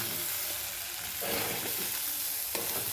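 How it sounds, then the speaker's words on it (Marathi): Rice stirred in a frying pan with masala, a dense steady sizzle broken by a few scrapes and taps of the spoon, heard up close. "मी तांदूळ टाकून घेतले ते, आणि हलवून पण घ्यायला लागले"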